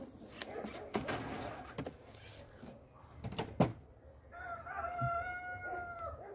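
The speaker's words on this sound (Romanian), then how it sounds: "Auzi, a venit cocoș." A rooster crows once at a beekeeping apiary, a moderately distant call after scattered knocks and handling noises, with faint talk nearby.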